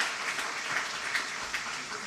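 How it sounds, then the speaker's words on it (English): An audience at a conference applauds, a steady, fairly faint wash of many hands clapping that carries on evenly throughout without a break. "Please give her a round of applause."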